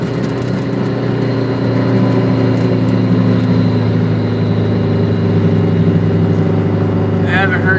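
An old Detroit diesel truck engine runs with a loud, steady low drone and strong harmonic hum, close up and continuous throughout.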